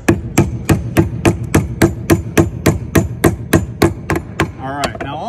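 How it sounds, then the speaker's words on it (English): A hammer taps a socket extractor down onto a rounded bolt held in a block, giving about fifteen sharp, evenly spaced metallic strikes up close, with no talk. "Put that in the block, we'll tap it down on there."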